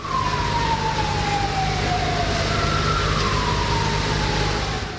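A fire engine's siren wails at a hotel fire, a loud, continuous falling and rising tone heard up close over the steady rumble of the truck's engine.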